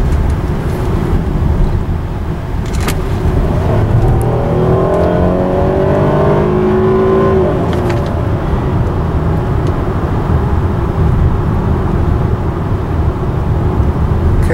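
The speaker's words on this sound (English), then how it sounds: "give you an idea of what the car sounds like when it's going down the road" Steady, loud road and engine noise from inside a moving 2012 Hyundai Azera, with the engine rising in pitch as it accelerates and the automatic transmission shifts smoothly through gears.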